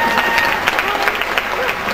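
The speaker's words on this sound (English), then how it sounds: "Give her a round of applause, everyone." Fans at a David Boreanaz fan convention event in Europe clap for a guest, a steady wash of crowd applause with faint cheering mixed in.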